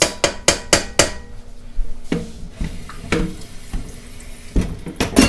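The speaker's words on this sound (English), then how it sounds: "I always rinse my colander so it doesn't get all that icky stuff" A kitchen tap runs water over a metal colander after draining boiled potatoes, with a quick series of sharp knocks and clanks up front, then splashing water and scattered taps close by.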